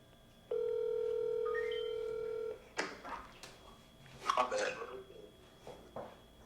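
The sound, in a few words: phone call ringing out on speakerphone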